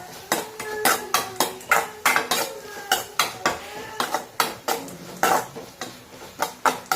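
Onions with turmeric being sautéed in a pan, a spoon scraping and knocking against the metal in a quick rhythmic series of sharp clinks over a faint sizzle, close and without talk.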